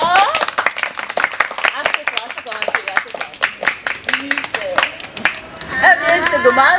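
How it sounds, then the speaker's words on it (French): An audience at a quiz segment claps for the two winning boys, scattered applause under loud, continuous talk from a presenter, with a few voices chattering nearby. "Applaudissez encore."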